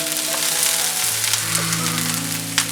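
Onions sizzle loudly in hot oil with mustard seeds and chana dal, tempering for kuli paniyaram, a steady close frying hiss with faint stirring clicks and a low hum underneath.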